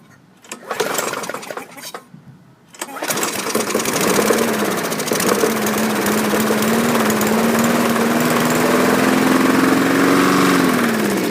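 A small gasoline lawn mower engine, carburetor flooded with oil, catches after a few rough sputters and then settles into a loud, steady, slightly uneven running drone close to the microphone.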